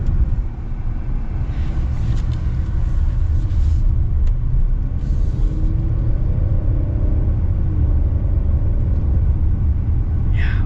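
A 2025 Hyundai Palisade Night Edition accelerates with a steady, loud low rumble of engine and road noise from inside the cabin, smooth and unbroken throughout.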